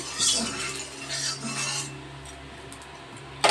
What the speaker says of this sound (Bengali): তেলটা কড়ার সাথে একটু ভালো করে মিশিয়ে নিচ্ছি